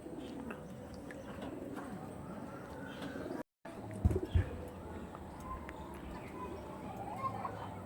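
Pigeons in a pigeon seller's stock coo softly in the background, low rumbling calls under a man's speech, with a few brief knocks and a short dropout partway through.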